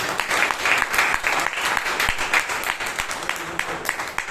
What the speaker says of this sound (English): all of you deserve a huge round of applause